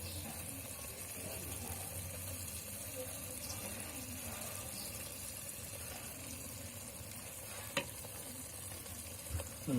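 Brinjal tomato curry simmering in an earthen pot over a low flame gives a steady, soft sizzle and bubbling that runs without a break, with a light clink near the end.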